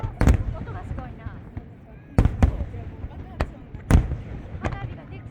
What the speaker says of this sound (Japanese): 花火がでっかいな、春。 上がったな。